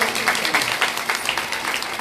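A crowd at a Srimad Bhagwatam katha in Mohan Nagar, Ghaziabad, breaks into brisk, dense clapping for a couple of seconds, close and steady without a clear voice over it.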